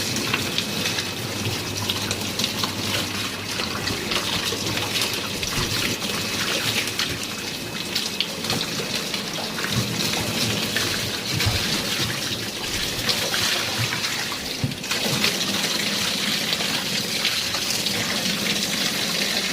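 Water from a hose pipe rinses a refrigerator, a steady hissing, splashing stream that runs continuously and loudly with no voices.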